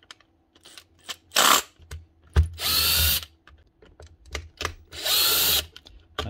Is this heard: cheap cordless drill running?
yes